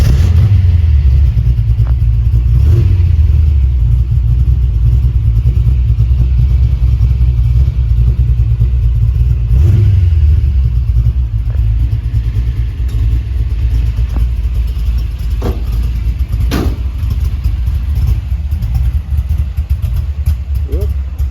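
A 1955 Chevy engine rumbles loudly and continuously up close, with low revs rising and falling several times over a steady idle.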